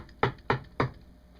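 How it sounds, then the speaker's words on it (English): Three sharp, evenly spaced knocks sound close and loud, like a knuckle rapping on wood, with a short gap between each rap and no voices. "I hear a knock on the flip phone."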